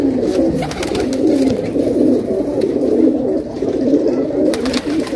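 Flying and fighting pigeons in a loft coo continuously in a dense, warbling chorus, loud and close, with no talk over them.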